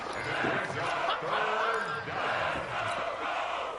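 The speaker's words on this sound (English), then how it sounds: "the crowd getting into it as we come up on a big third down" Stadium crowd at a football game building into a loud, sustained roar before a big third down, with a commentator's voice audible over the cheering.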